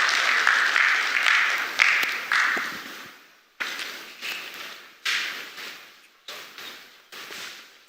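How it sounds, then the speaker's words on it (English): Audience applause at a government press briefing held by a Minister of Information: an initial burst of many hands clapping, then several short bursts of claps that start sharply and fade, moderately loud and with no talking. "Please, a round of applause for the Honorable Minister of Information."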